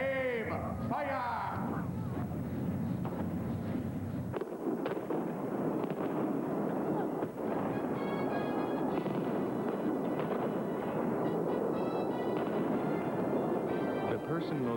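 Cannon broadside booming from a pirate ship show on the Las Vegas Strip, a loud burst of blasts and crackling explosions rolling on under crowd noise and a voice giving commands.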